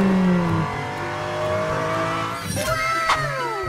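A Lamborghini in PUBG Mobile revs hard, its engine tone climbing and shifting steadily with brief tire-squeal-like sweeps near the end, loud and close throughout.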